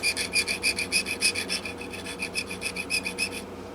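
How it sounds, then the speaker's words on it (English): Sandpaper of 220 grit rubbed in quick, even back-and-forth strokes on a part of a 1940s Gibson J-45 guitar, a close rhythmic rasping of about fifteen strokes in under four seconds with no talk. "I like to come in with a 220 grit sandpaper and shorten it slightly."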